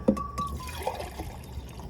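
Water pours and trickles steadily into a measuring container inside a jeep for a couple of seconds, a soft liquid splash with a faint rising tone underneath.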